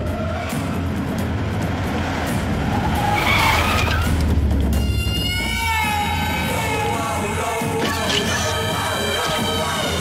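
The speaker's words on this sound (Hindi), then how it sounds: "सरकार की गाड़ी आ रही है।" A car roars in and skids, tires squealing loudly in long wavering screeches over engine noise, in a dramatic Hindi film action scene, with a second squeal near the end.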